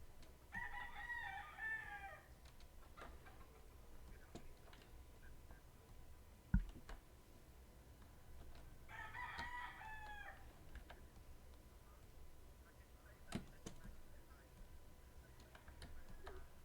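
Rooster crowing played from a soundboard, heard twice as separate cock-a-doodle-doo calls several seconds apart, fairly faint against quiet background with a few clicks between.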